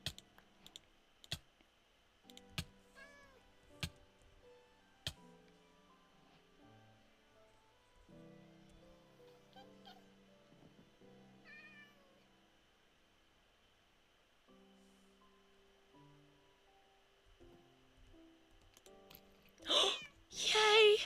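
A Minecraft cat gives a few faint, short meows against a quiet backdrop of scattered clicks and keyboard tapping, with soft game tones underneath.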